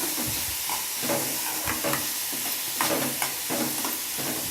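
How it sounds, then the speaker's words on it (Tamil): Shredded cabbage, onion and garlic sauteing with half a spoon of salt in a pan, a steady close sizzle with intermittent scraping and stirring strokes. "இப்போ இதில் நம்ம ஒரு அரை ஸ்பூன் சால்ட்டை நம்ம சேர்த்துட்டு அது நல்லா வதங்கி வரட்டும்."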